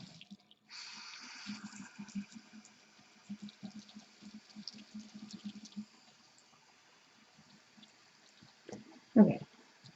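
Warm water runs and trickles for a bar-soap lather test, with soft intermittent splashes and drips close by and a louder splash near the end.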